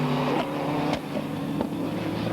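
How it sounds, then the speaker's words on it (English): A Lotus GT race car with engine trouble at Croft circuit pops and bangs, giving a rough droning note broken by sharp cracks, heard from a distance over a short stretch. "Popping and banging, all is far from well"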